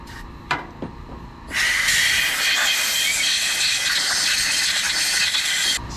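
Compressed air blowing out a carburetor, a sharp loud hiss that starts abruptly after a couple of soft clicks and holds steady for about four seconds before cutting off, close up.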